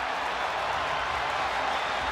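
A basketball arena crowd roars and applauds in a steady, dense wash of clapping and cheering at a Boston Celtics home game against the Detroit Pistons.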